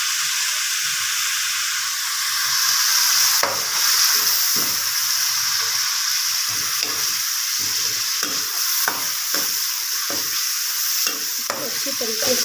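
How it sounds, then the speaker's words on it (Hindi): Onions and tomatoes fry in a pan with a constant loud sizzle and hiss, while a spoon stirs and scrapes against the pan in repeated irregular knocks; no talking. "अब हमने इसमें टमाटर डालने हैं।"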